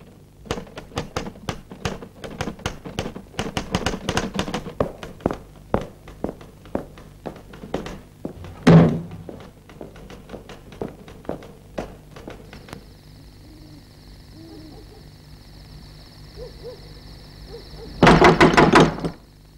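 Knocking on a door: a long run of sharp, irregular raps, fairly close, with a heavier thud midway, a quieter stretch with a faint steady hum, then a final dense burst of rapid pounding.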